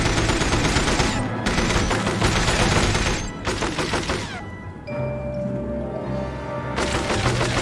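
Dense, sustained gunfire from the James Bond 007: From Russia With Love video game, overlapping volleys rattling on loudly with brief gaps, backed by a thick mix of game music and effects.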